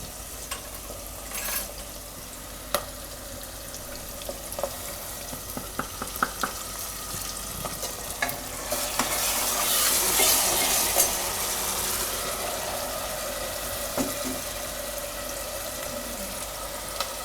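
Ginger, chili and garlic paste is stirred in hot frying oil for Gujarati shaak parotha. A steady close sizzle runs throughout, with scattered sharp scraping clicks that swell briefly toward the middle.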